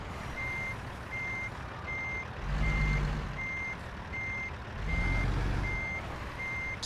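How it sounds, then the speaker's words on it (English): Repeated truck reversing beeps, evenly spaced, sound steadily in American Truck Simulator, with a low engine rumble swelling twice underneath as the truck maneuvers near a trailer; no one talks. "Let's be careful of this truck."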